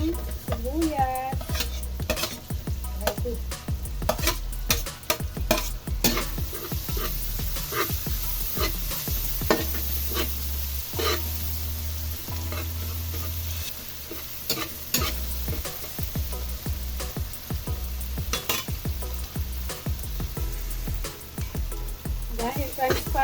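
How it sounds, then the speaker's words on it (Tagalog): Onions sauté with garlic in a pan for a Filipino pork and chicken dish, giving a constant sizzle broken by frequent stirring scrapes and occasional utensil clinks on the pan, heard up close. "At isunod natin ang sibuyas."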